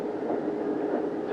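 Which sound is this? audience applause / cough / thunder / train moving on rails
train moving on rails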